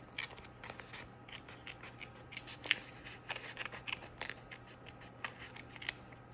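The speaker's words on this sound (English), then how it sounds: "There's jellyfish in this tape roll, so I'm just gonna cut out around that." Small scissors snip through a roll of decorative tape, cutting around a printed jellyfish shape: a quick, close run of light, crisp snips over a faint steady hum, with no voices.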